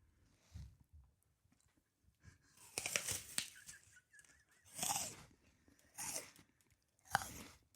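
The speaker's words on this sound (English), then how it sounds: "Highly crisp, satisfying crunch." Someone bites into a crisp Sugar Bee apple, a bicolored apple with red skin over a creamy yellow background, giving several sharp, close crunches separated by quiet pauses.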